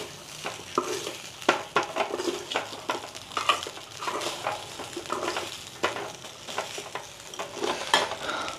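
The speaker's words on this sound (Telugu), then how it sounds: "సో మంచిగా కలుపుకోవాలి, ఇవన్నీ వాటికి మంచిగా పట్టాలి రైస్కి" Jeera rice is stirred in a hot pan, a spoon scraping and tossing the grains in repeated irregular strokes over a soft sizzle, close and clear with no speech.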